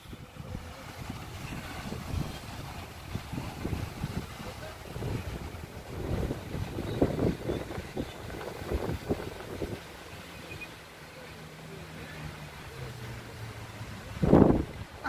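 Wind buffeting the microphone and rough waves slapping against a boat at sea off Israel, rumbling in uneven gusts, with a brief louder burst near the end.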